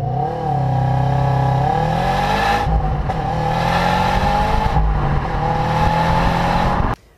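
A Subaru WRX STI with all-wheel drive launches hard. Its engine revs loud and close, and the pitch climbs through rising gears with brief shift breaks.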